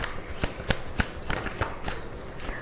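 Tarot cards being shuffled by hand at a quiet reading: close, crisp riffling with a steady run of sharp card slaps and soft papery brushing.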